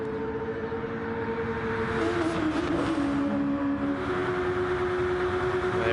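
Race car climbing Eau Rouge at Spa with the overtake button engaged during a DTCC 2021 round, its engine a loud continuous drone that rises in pitch as it accelerates.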